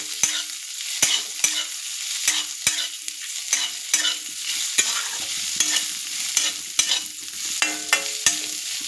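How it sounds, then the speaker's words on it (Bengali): Bay leaves, dried chilies and five-spice seeds are stirred in hot oil: a quiet sizzle punctuated by regular, crisp knocks and scrapes of the spoon against the pan, with no talk. "এতে এক একে দিয়ে দেবো দুটো তেজপাতা, দুটো শুকনো লঙ্কা, আর সামান্য 5 ফোড়ন দিয়ে এটাকে নাড়তে থাকবে।"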